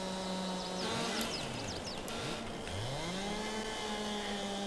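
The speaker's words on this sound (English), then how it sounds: "It's a good chainsaw." A chainsaw runs through logs on an old farm, its engine droning loud and close. The pitch dips and rises as the blade bites into the wood, and a few brief higher scrapes come near the middle.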